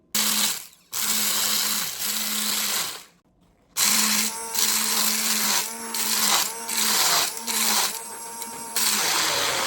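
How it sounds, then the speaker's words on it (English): Electric hand mixer grinding dried meat into flour, a steady motorized whir with pitch shifting under load, running in repeated bursts separated by short pauses. "with this hand mixer it works as well"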